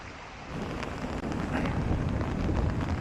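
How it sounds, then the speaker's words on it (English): Heavy rain pours steadily outdoors by a castle in Milan during a thunderstorm, a dense hiss with low rumbling and some wind buffeting on the microphone. "It's starting to rain a lot again and thunderstorm."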